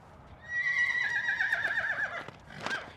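Yearling horse in a round pen giving one loud, clear whinny lasting about two seconds, ending with a short snort-like call, close by over quiet background.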